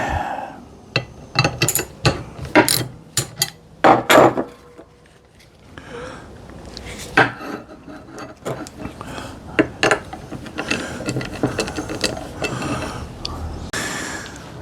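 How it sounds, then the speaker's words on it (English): A wrench working on a loose nut that just spins freely on its shaft, giving a run of sharp metallic clicks and knocks, dense in the first few seconds and then scattered, with light handling noise throughout. "all that's happening is the nut is spinning on the shaft"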